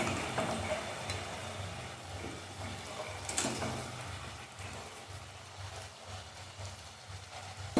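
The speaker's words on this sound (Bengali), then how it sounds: "দেখুন কত সুন্দর জিলেপি ভাজা হচ্ছে।" Jalebi coils frying in hot oil give a steady, dense sizzle and bubbling hiss that runs evenly throughout, close up, with no voices.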